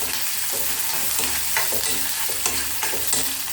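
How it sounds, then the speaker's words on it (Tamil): Onions sautéing in a pan for a tomato kadappa side dish, with a steady sizzle of frying and repeated scraping stirs of a spoon against the pan, close and continuous with no talk. "இந்த வெங்காயம் வதங்கட்டும்"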